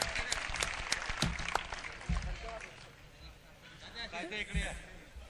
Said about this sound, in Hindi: आप तमाम से गुजारिश करूंगा कि जोरदार तालियों के साथ जो है आप शरीफ अख्तर साहब का